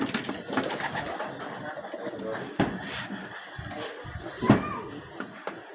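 Racing pigeons from a club loft cooing close by, with soft overlapping calls and rustling plus a couple of sharp knocks, under someone talking throughout.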